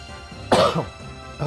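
A single harsh cough, close and sudden, followed by a quieter throat sound over faint background hum.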